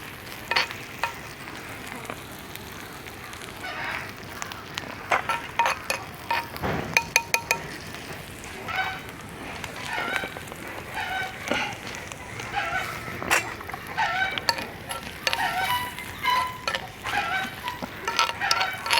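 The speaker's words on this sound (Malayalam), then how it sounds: "നമ്മൾ അരപ്പ് അങ്ങനെ വെന്തുകൊണ്ടിരിക്കുകയാണ്." Spice paste cooking on a hot stone outdoors, a steady low sizzle under scattered clinks and scraping taps, close-up and moderately loud, with occasional faint voices.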